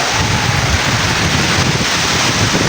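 Heavy rain pours down steadily during construction work on a house's corrugated metal roof, a loud dense unbroken roar close to the microphone with no voices.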